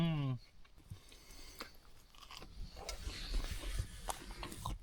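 Someone bites into bread and chews it with crunchy, wet mouth sounds up close, after a brief vocal exclamation, during a meal on a frozen Canadian highway trip.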